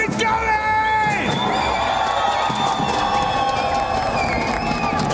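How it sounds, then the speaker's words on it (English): An esports crowd cheering at the PUBG Mobile World Cup grand finals in Paris, a loud sustained roar with shouts and whoops from a packed arena, continuous throughout, with voices calling out among the noise. "It's a real good crowd here we got here in Paris."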